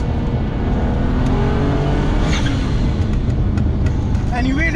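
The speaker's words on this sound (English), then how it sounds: "Love the sound of that N54." A turbocharged BMW 135i convertible with an N54 engine and Pure Turbos accelerates hard, a loud continuous engine roar and rushing wind from inside the car, with some turbo whistle over the top.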